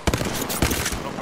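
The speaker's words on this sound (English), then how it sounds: "Firing." Rapid automatic gunfire from a video game combat scene, a dense burst of loud shots with sharp peaks near the start and middle, continuous through the short stretch.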